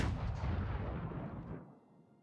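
A single heavy cannon blast in BeamNG Drive career mode, a loud booming report whose long rumbling tail fades out over two seconds.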